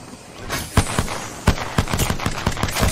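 Rapid gunfire from the Apex Legends video game, a burst of loud, closely spaced shots with a few irregular gaps, firing continuously for several seconds with no voices.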